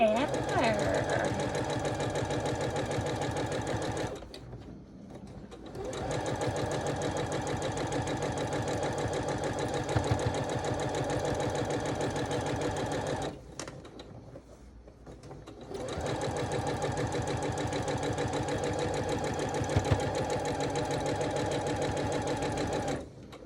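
A sewing machine stitches quilt blocks in long, steady runs of rapid mechanical chatter, stopping twice for a second or two before starting again.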